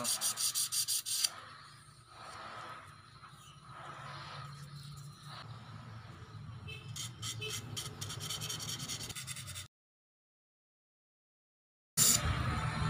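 Steady rhythmic rubbing of sandpaper across 3mm glass, back-and-forth strokes continuing for several seconds before a brief silence.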